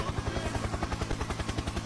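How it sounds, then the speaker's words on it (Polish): Helicopter flying nearby, its rotor beating in a fast, even chop that pulses steadily throughout. "Helikopter, helikopter!"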